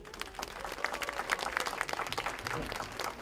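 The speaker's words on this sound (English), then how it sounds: "So let's give her a round of applause." Applause fills a room at a government meeting, steady scattered clapping from a modest crowd, somewhat distant and moderately quiet, with a faint voice briefly audible beneath it.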